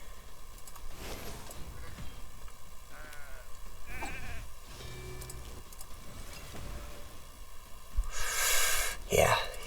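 Sheep bleating in the video game Raid Shadow Legends, short bleats amid game effects and a louder burst near the end, with a person talking over the gameplay.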